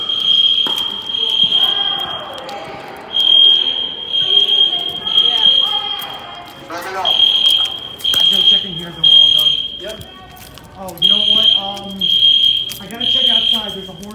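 A fire alarm horn strobe sounds during a building test, blaring in loud repeated pulsing bursts with short gaps, while people talk between and over the blasts.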